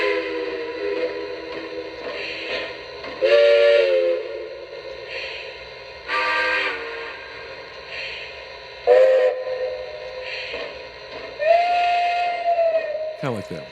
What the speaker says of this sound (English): now let's check out the whistle.